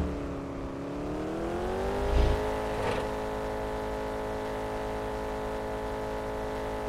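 A 2014 Ferrari F12 TRS in Farming Simulator 19 accelerates hard, its engine tone climbing and then holding a loud, steady high-revving drone, with a couple of brief bumps along the way.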